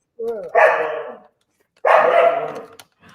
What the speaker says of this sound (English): probably can hear Chris because really the only time she barks is Because Chris is in the area